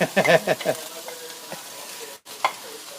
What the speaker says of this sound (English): You put the olive oil and then the onion.